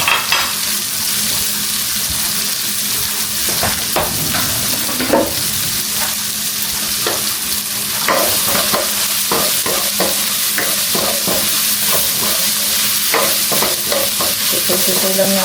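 Onion and garlic frying for beef morcon, a loud continuous sizzle with repeated stirring scrapes and utensil clatter close against the pan.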